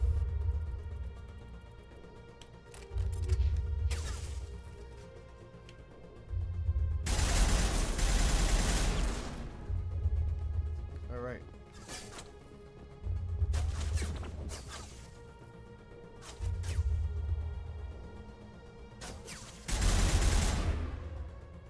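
Game gunfire from a shotgun and a machine gun in Mass Effect: Legendary Edition, loud broadband bursts of fire recurring every couple of seconds with a steady low rumble underneath and no talking.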